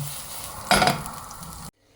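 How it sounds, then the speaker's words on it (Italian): Cumin seeds and spring onion fry in a pan, a steady soft sizzle that surges loudly for about a second as the onion goes in, then settles back to a gentle crackle before cutting off. "I semi di cumino hanno cominciato a friggere, metto giù il cipollotto e lascio stufare piano piano."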